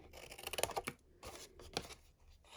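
Short bursts of cardstock being cut for a box card, quick snipping and scraping in two or three clusters separated by pauses, quiet and close.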